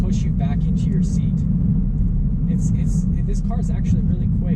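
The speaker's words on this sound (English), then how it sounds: "I'm just letting this car warm up a little bit, so I'm keeping the RPMs really low." A 2018 Subaru WRX turbocharged engine idles at low RPM while warming up, giving a steady, loud low rumble throughout with faint higher noises scattered over it.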